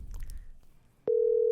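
A telephone is dialed to call in on a live podcast: brief faint clicks and chatter, then a steady, loud single-pitch dial tone starts abruptly and holds to the end.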